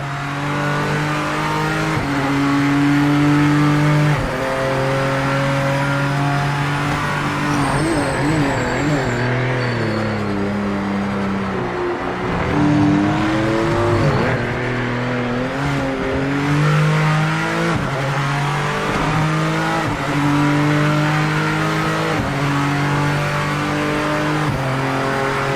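A BMW GT3 race car engine in the racing game Project Motor Racing revs hard and continuously through repeated upshifts and downshifts, loud and close, with no talking.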